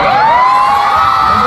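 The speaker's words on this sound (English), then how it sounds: "I was really surprised that you guys are cheering this much for us." A concert crowd of fans at a show in Manila cheers and screams continuously, a loud, dense wall of high-pitched shouting and whooping with no break.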